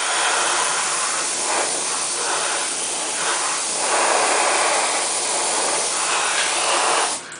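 An airbrush spraying leather dye onto a holster, a close steady hissing spray with slight swells in strength, ending with a brief sharp burst before it stops.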